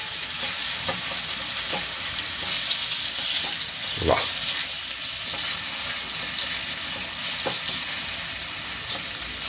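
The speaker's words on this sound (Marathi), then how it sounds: "छानपैकी ही फोडणी बसलेली आहे मिरचीला. घमघमाट सुटलेला आहे मिरचीचा नुसता." Green chillies sizzle in hot oil for a tempering meant for vada pav potato filling: a steady, close crackling hiss with a brief stirring clatter midway, and one short spoken exclamation.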